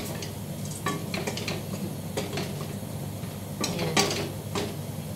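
Ingredients for Greek baked orzo sizzle quietly in a pan, with occasional clinks and stirring scrapes over a steady hum.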